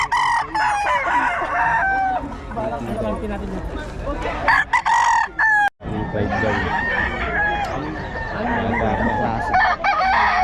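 Roosters crowing and chickens clucking at a Bocaue fowl market, several close crows and steady clucking mixed with people talking nearby, with a brief sharp knock midway.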